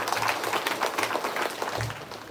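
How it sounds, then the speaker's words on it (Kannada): Audience applause at a live stage programme, a steady, fairly soft wash of clapping that continues evenly throughout with no voices on top. "ಅಕ್ಲಿಗೆ ಒಂಜಿ ಜೋರಾಯಿನ ಚಪ್ಪಾಳೆ"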